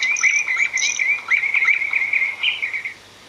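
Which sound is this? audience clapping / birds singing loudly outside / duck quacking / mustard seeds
birds singing loudly outside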